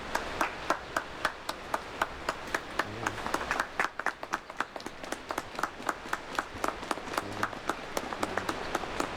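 A small group claps at a wedding ceremony, a quick run of sharp, fairly close hand claps that continues steadily without a break.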